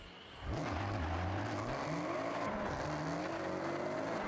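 A video game car engine roars up and holds a loud, buzzy rev, its pitch climbing and wavering steadily, close and synthetic-sounding.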